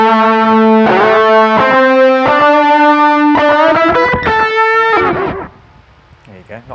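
An electric guitar solo runs through a JHS 424 Gain Stage with a slap echo, sustained distorted notes and bends moving between pitches, loud and close, ending in a few quick, clipped phrases before trailing off.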